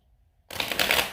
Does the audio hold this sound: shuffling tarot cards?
yes